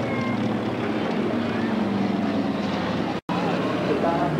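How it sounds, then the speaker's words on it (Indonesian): A Douglas DC-2 propeller airliner, the 1984 "Uiver" arrival at Halim Airport in Jakarta, makes a flypast as a steady, loud engine drone fills the air while a voice talks over it. "Pesawat dari Indonesia adakan flypass di atas kita."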